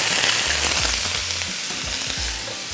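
Vegetables and fried golden garlic stir-fry in a hot wok with capsicum and baby eringi mushrooms, a loud, continuous close sizzle broken by regular scraping stirs.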